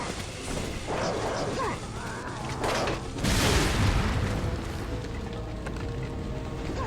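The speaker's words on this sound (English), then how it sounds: "you just want to shoot this guy with the rocket launcher" Rocket launcher blast and explosion in Resident Evil 4 on PS4, with loud booming bursts across the stretch, one heavy blast near the middle among crashing game noise, and a voice talking over it.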